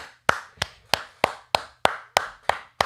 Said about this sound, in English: Round of applause for yourselves, gentlemen.